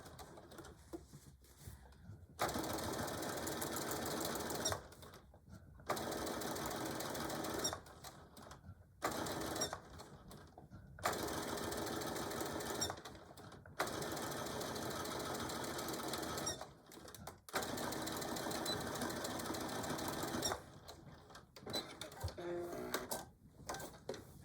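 Sewing machine stitching a tool carry bag: loud, even mechanical whirring runs in several bursts of a few seconds each, separated by short quiet pauses, with no talking.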